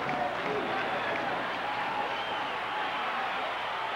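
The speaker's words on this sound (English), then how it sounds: "Classical crowd chanting Gary, and the Putnam people are shouting Deveron" A high school wrestling crowd keeps up a steady dense roar of chanting and shouting for the wrestlers, unbroken and fairly loud, like a packed gym.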